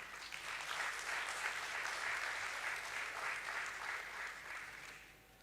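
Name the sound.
audience applause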